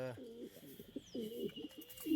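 Racing and breeding pigeons coo inside a loft, a few close rolling calls in a row with a faint chirp and a quiet background hum.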